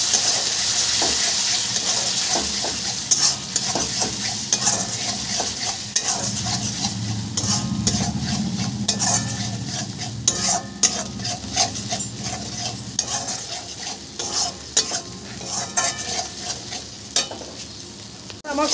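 Loita fish curry masala with yogurt sizzles in a pan as a spoon stirs and scrapes through it, making frequent clattering knocks over a steady, wet frying hiss.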